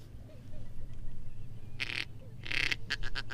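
Ducks in the Florida Everglades give a few short, raspy quacks near the end, a lone call followed by a quick cluster, heard over a low outdoor rumble.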